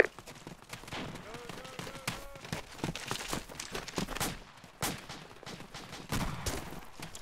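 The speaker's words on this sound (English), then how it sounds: "We're getting shot at." Gunfire cracks from a hill to the west-northwest during an IED threat, sharp distant shots scattered irregularly amid shouting voices and movement, fairly faint overall.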